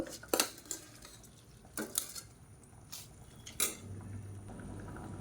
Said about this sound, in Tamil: இப்போ ஊற வச்சுருக்க அரிசியை சேர்த்துக்கலாம்